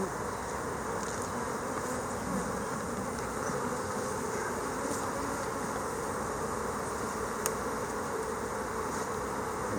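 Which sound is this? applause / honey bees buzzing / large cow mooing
honey bees buzzing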